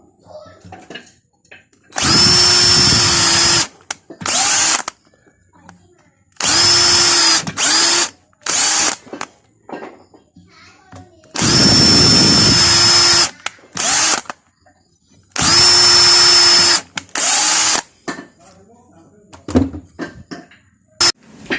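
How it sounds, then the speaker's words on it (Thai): A power drill bores a 3 mm hole in wood for a bamboo-skewer dowel, sounding as four long, loud whirring bursts with shorter spurts between them and near silence in the gaps. "เจาะดูรูแล้วผม ตรงตำแหน่งที่เราต้องการจะทำสลัก"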